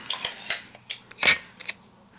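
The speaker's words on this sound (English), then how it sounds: "Tape that down." Tape handled and pressed down onto a paper pop-up craft piece during card making, heard as a few close crinkly tearing and tapping bursts with quiet gaps between them.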